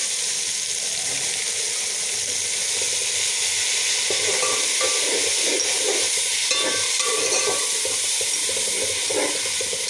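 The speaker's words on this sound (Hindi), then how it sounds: "सब्ज़ चटनी जो है उसको हम थोड़ा सा घी में फ्राई करेंगे।" Steady, dense sizzling of green chutney frying in hot ghee, with occasional stirring scrapes and crackles, continuous and close throughout.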